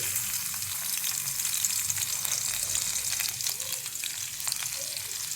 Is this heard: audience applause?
no